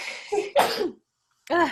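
A person with allergies lets out a single sharp sneeze, close and fairly loud, with a short stretch of speech before it and a voice starting again after a brief pause.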